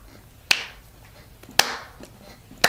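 A novelty clapping toy that opens its mouth before it claps gives three sharp, isolated claps spaced about a second apart, each a crisp snap with a short decaying tail, against a quiet background.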